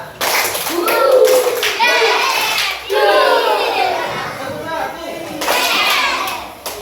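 Children in a classroom clap game clap in loud bursts along with lively group chanting and cheering, the clapping rising and falling in several waves.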